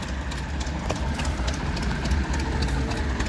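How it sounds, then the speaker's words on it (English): A homemade tractor styled like a Rumley idles at a harvest show with a steady, low, even engine rumble that runs through the whole stretch and has no talk over it. "Homemade tractor made to look like a Rumley. Cool piece."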